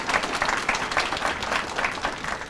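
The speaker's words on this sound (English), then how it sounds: "Let's give them a hand." Audience at a college ribbon cutting for a technical college's student success center applauding steadily, a dense, sustained wash of clapping from a sizable crowd that holds at even loudness throughout.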